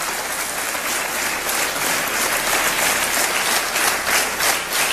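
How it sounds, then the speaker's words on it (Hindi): Studio audience applause on a televised quiz show after a contestant wins a big prize, dense and loud clapping sustained evenly throughout. "तालियां बजती रहे"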